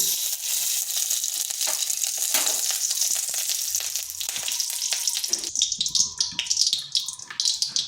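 Ghee heats in a pan for a sabudana recipe, giving a steady crackling fry sizzle that fills the clip and turns choppier and more broken toward the end, with no talk over it.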